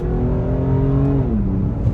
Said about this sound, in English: the engine noise is very, very noticeable versus the factory stuff